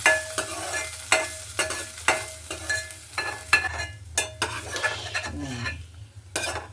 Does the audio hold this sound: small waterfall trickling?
no